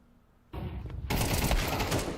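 A sudden rapid burst of gunfire erupts in an esports shooter match, loud sustained shots following a quieter moment, with no talking over it.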